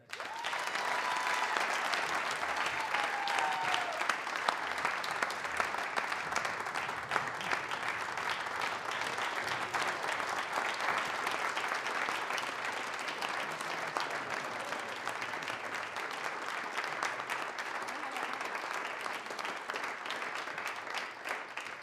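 Sustained applause from a ceremony audience at the 2017 Radio Humber Hall of Fame, dense and steady clapping filling the room for about twenty seconds with no talk over it.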